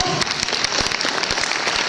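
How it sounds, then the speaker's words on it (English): Seminar audience at an ASEAN young entrepreneurs event applauding for about two seconds, a dense, steady patter of many hands with a few sharper claps standing out, fairly loud and close, no speech over it. "let's give a big round of applause."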